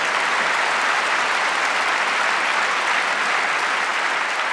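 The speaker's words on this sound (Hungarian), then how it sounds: "Nagyon nagy tapsot kérek önöknek, ennél sokkal nagyobbat." Loud, sustained applause from a large concert audience, steady and dense throughout with no voices standing out.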